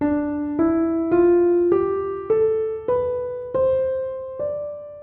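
A piano plays a slow ascending run of single notes on white keys only, starting from D, each struck clearly and left to ring before the next, with no voices.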